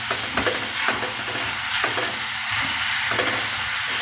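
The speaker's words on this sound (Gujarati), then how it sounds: "હવે નાખી દઈશું આદું આમળા અને મરચાં વાટેલા બધું મિક્સ કરી દઈએ" Ground ginger, amla and green chillies stirred in a hot pan, with a close, continuous scraping sizzle and several spatula strokes and no talk.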